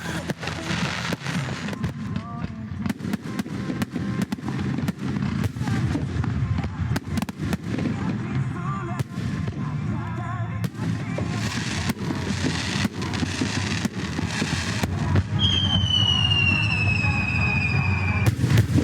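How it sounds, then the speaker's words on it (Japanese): Fireworks boom and crackle in rapid, continuous bursts over Kamisuwa Onsen in Nagano, Japan, loud and close, with a whistling rocket rising near the end and faint crowd noise beneath. "いやーやっぱり花火は最高ですね。"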